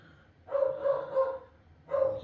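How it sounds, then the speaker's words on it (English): A dog barks somewhere in the house: a run of a few fairly faint, muffled barks, then a short pause and one more bark, heard from a distance with no one talking. "I can't do anything about the dog barking."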